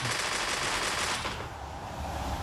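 A rapid burst of automatic gunfire in the video game PUBG, a dense rattling stream of shots that thins out after about a second, fairly faint and with no voices.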